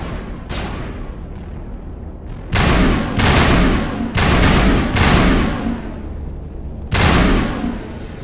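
Heavy gunfire from a firefight in Mass Effect, with several booming bursts of shots and blasts separated by short gaps, loud and close, with no talking over it.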